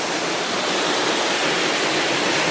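Waterfall in a Costa Rican jungle, a steady, loud, broadband rush of falling water filling the whole clip with no voices.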